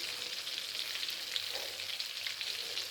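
Battered gourami fish deep-frying in a generous amount of very hot oil, giving a steady, dense crackling sizzle that runs unbroken and close throughout, with no voices.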